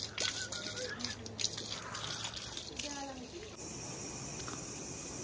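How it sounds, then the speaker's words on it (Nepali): Water poured by hand onto dry flower plants in a hillside garden in Sonada, Darjeeling, trickling and splashing softly beneath a talking voice, then settling into a steady faint wash. "अब चाहिँ यहाँ माथि हाल्दैछु."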